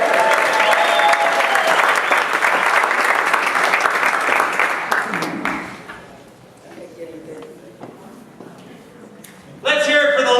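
A chamber of commerce roast crowd gives loud applause for Mark Foley, dense clapping for about five seconds that fades into scattered claps and murmurs before a sudden voice cuts in.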